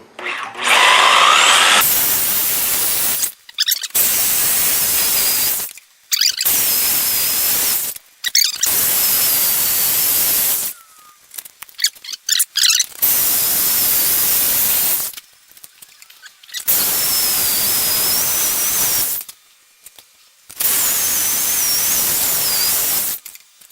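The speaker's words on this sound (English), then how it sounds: "So I'm going to try and cut this bearing and then see what we got from there." A power saw cuts through a rear wheel bearing from a Ford Explorer, screaming loudly in about seven long, harsh, high-pitched bursts separated by short silent pauses.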